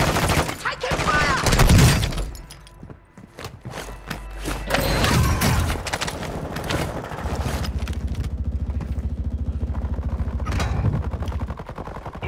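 Rapid bursts of video game battle gunfire, automatic volleys and heavy thuds stacked together in dense, loud exchanges, with radio-style voice chatter mixed in.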